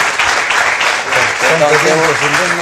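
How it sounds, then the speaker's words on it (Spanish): Audience applause for a guest at a comic and illustration convention in Viña del Mar, a dense, steady wash of clapping with a voice speaking over it partway through. "les pido un aplauso para él"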